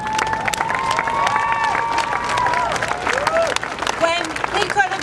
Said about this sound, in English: So let's applaud Dr. Tiller for his courage year after year